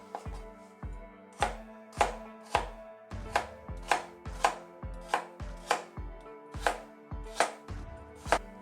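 Carrots are chopped with a knife on a board for a vegetable giardiniera. About fourteen crisp, evenly spaced chops ring out close and clear at a steady, unhurried rhythm, with no voices.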